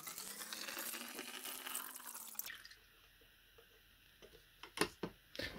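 Activated EM solution made with molasses pours into a vessel in a steady rising gurgle for a couple of seconds, then stops, leaving faint drips and small knocks.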